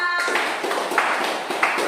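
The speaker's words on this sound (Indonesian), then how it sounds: "Tepuk tangan untuk kita semua." Applause from a class of students, a steady rapid patter of many hands clapping filling the room for about two seconds, with a few louder claps standing out.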